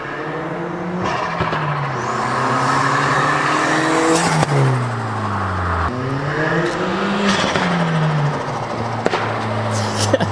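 A 235,000-mile VW Golf 1.8T with a KO4 turbo at 24 psi accelerates hard, its engine note climbing through gears with shifts and audible turbo spool, loud and close from outside the car.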